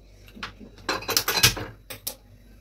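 A spoon clinks and scrapes against a metal pan as ghee goes in for carrot halwa, a short run of close, sharp metallic taps and rattles.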